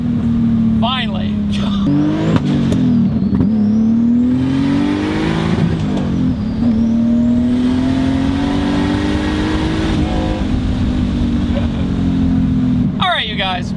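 A single-turbo BMW 328is accelerating hard in third gear, its engine note climbing steadily and loudly from inside the cabin for the whole stretch, with brief voices near the start and end.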